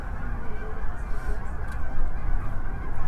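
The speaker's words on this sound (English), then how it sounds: "there's plenty of birds out here right now" Birds, likely geese, honk outdoors at Barr Lake State Park during an eagle festival. Their calls are fairly distant, half buried in a steady, loud wash of wind-like noise across the whole clip.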